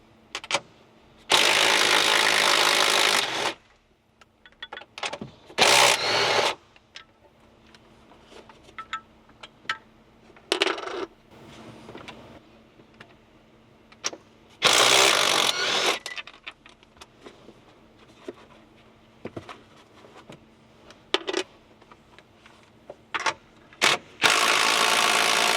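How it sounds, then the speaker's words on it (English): An electric impact gun loosens bolts on a Porsche 992 Carrera during coilover work, with loud bursts of rattling hammering lasting a second or two each, separated by quieter clanks and handling noises up close. "You can also use, electric impact gun to get those out."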